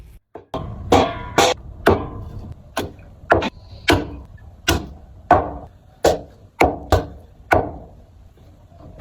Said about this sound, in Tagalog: Pagkatapos ko namang ilaib iyan ay digar na gagayatin ko naman at saka tatadtarin ko